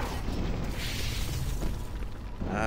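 Missile blasts in the video game Doom 3, a loud, sustained roar of rumbling explosion noise that carries through the whole moment with no pause.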